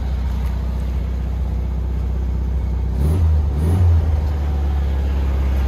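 Air-cooled engine of a 1967 Volkswagen Beetle convertible with twin exhaust tips idling while warming up, a loud, steady low rumble close by that swells briefly once midway, with no talk over it.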